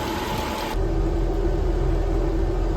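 A heater fan whirs steadily inside an Austin Allegro car with a cooling system fault, a constant hum over a low idling rumble, near and unbroken throughout.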